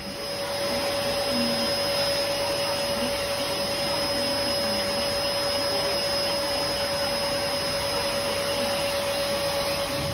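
A vacuum cleaner runs on a customer's head at a cheap Japanese barber shop, a constant close whine with a steady high tone and airy rush throughout, no talk.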